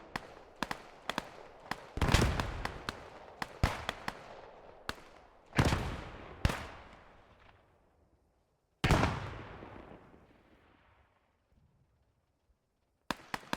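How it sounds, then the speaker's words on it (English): Grenade explosions in a World War II German-versus-Soviet video game battle: several loud blasts, with heavy ones at about 2, 5.5 and 9 seconds, among scattered sharp pops and cracks. "The German grenade, it looks like there."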